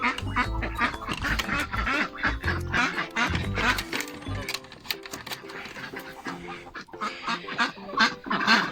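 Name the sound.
ducks quacking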